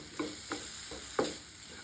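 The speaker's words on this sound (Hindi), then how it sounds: "बस अच्छे से इन्हें मिक्स कर लेंगे।" Softened vegetables stirred with ketchup and oregano in a pan for a quick snack, a few distinct scraping strokes over a faint steady sizzle, nearby and fairly quiet.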